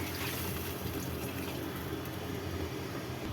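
Water pours steadily into a cooking pot for rasam with a continuous splashing rush, even and unbroken throughout, fairly quiet.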